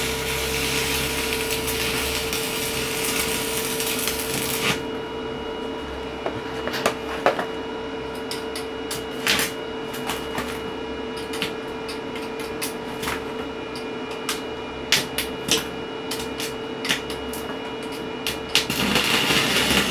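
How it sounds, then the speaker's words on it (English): MMA stick welding run from a 4000 W 48 V DIY EGS002 hybrid inverter: a steady electrical hum and crackle breaks into irregular sharp arc pops and sputters, close and fairly loud, without speech. "Welding."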